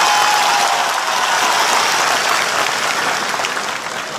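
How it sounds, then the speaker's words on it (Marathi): A crowd at a protest rally in Nagpur applauds to welcome Pankaja Munde, with loud, sustained clapping from many hands that fades slightly toward the end. "पंकजाताईचं टाळ्या वाजून स्वागत करा"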